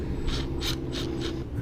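Self-tapping sheet metal screws are driven into holes on a commercial storeroom lock, giving four quick ratcheting bursts over a steady low mechanical hum.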